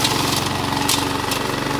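A cheap Chinese department-store lawn mower runs at a steady, loud, close chug, its engine droning evenly throughout the brief stretch.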